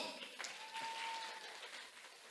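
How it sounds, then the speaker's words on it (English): A round of applause at a Mother's Day celebration gathering, a steady wash of many hands clapping at moderate distance, fairly faint, with a thin sustained tone running through the middle. "Let's give him a round of applause."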